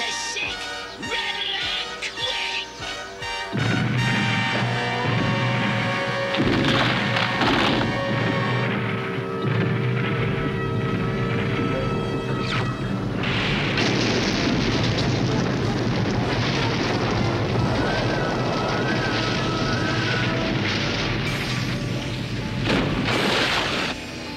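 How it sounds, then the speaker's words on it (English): A fusion cannon blast in a Transformers Generation 1 cartoon erupts after a quiet opening into a long, loud rumbling barrage of booms and crashes, laced with whining electronic effects and warbling tones. "Now you will witness the power of my fusion cannon."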